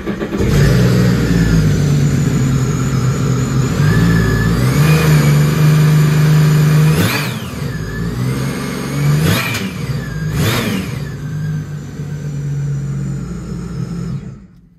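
A supercharged 300 hp boat engine idling with a steady low rumble, then revved sharply several times with rising whines before settling and shutting off.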